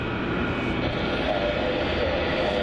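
A Jetstar A321 MAX airliner at Melbourne Airport during pushback gives off a steady engine drone with a faint rising whine partway through, fairly close and continuous.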